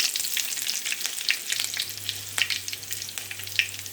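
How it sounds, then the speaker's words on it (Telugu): Mustard seeds, cumin, green chilies and curry leaves fry in hot oil with a steady sizzle, broken by sharp crackles and pops from the spluttering seeds. "ఆవాలు అయితే చిట్టుపట్లాడేటప్పుడు అలాగే కొంచెము జీలకర్ర వేసుకోవాలి."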